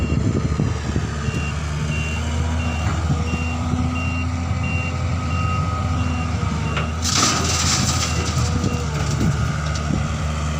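A truck stands in for loading by a large digging machine at a pond excavation, steady reversing beeps sounding over a loud, constant diesel rumble, with a brief rush of louder noise partway through; no talking.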